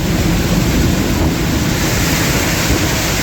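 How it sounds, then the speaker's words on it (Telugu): Heavy rain pours onto a waterlogged highway with a lorry ahead, a loud, steady, unbroken roar of hissing spray and downpour with no voices. "చాలా అంటే చాలా హెవీగా పడుతుంది వర్షం."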